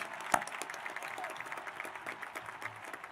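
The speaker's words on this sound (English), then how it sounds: "How about a nice round of applause for class sponsors" A crowd at a high school commencement claps steadily for a few seconds, with one sharp clap standing out early on.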